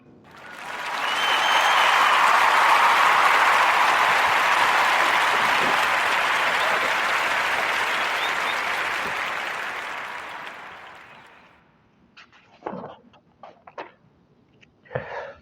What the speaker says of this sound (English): I want to give a warm narrative round of applause for Mr. Michael E. Dyson